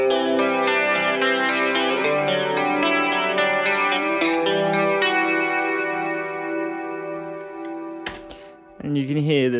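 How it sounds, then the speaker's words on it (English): Sustained synth chords run through the TAL Chorus LX plugin at full stereo width, giving a wide, shimmering 80s-style chorus tone, loud and continuous, then a few clicks and a brief burst at the end. "it kind of definitely widens the signal and gives it that very 80s chorus sound"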